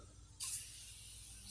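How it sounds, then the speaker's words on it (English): Glass cleaner sprayed onto a car window, one short sharp hiss from a spray bottle after a moment of quiet, close up. "Simply spray it all over the window"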